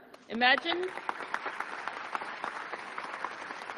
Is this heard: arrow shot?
no